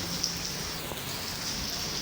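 Steady rain falls in an office garden during a prolonged heavy downpour in Karachi, a dense continuous hiss with no voices.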